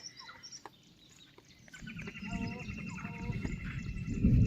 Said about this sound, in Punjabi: ਤਰ੍ਹਾਂ ਤਰ੍ਹਾਂ ਦੇ ਪੰਛੀ ਬੋਲ ਰਹੇ